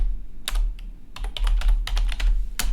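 Typing on a computer keyboard, a quick irregular run of close, crisp key clicks in short bursts, with no voice.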